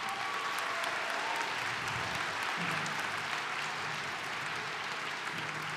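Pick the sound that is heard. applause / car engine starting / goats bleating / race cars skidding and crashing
applause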